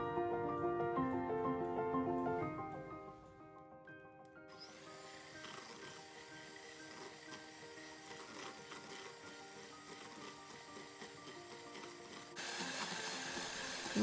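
A handheld electric mixer whisks melted butter and sugar for brownies. After a few seconds of softer tonal sound, a steady mechanical whir takes over and grows slightly louder near the end, with no speech.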